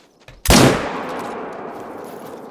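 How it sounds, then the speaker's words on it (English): A single loud gunshot from a hunting rifle in The Hunter, booming close with a long rolling echo decaying over about two seconds. "Is that you shooting?"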